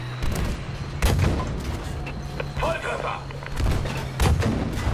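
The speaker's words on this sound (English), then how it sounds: "I'm gonna keep getting hit by another tank that I can't see" Tank cannon fire in Battlefield V, heavy booming shots and thuds striking at intervals over an engine rumble, loud and close, with a voice talking partly underneath.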